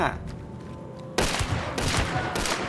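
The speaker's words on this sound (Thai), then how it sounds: "มันยิงปืนรัวมา" Rapid gunfire in the video game Hunt: Showdown: after a quieter second, loud automatic bursts crack out in quick succession, with about three dense volleys close together.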